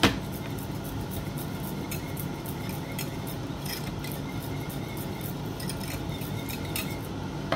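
Sticky rice being stirred together with condensed milk using a spoon, giving a steady, continuous run of soft scraping and clinking against the bowl, close and fairly quiet, with no talking.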